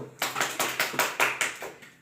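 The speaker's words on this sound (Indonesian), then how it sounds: "Mari kita berikan tepuk tangan kepada kelompok 1" Students clap in a classroom during a micro-teaching lesson, giving group 1 a round of applause in quick, rhythmic bursts of about eight close, crisp beats.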